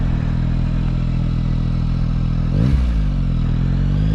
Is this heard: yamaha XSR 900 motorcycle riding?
yes